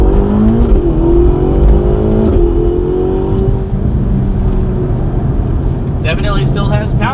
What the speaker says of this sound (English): Are we warmed up and okay to give it some revs?